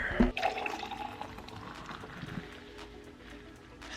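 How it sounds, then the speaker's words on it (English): Water runs from a refrigerator dispenser into a cup: a close, steady stream that starts with a brief splashy burst and then settles into a softer, continuous fill. "Now I'm gonna just fill her up with some water from my fridge."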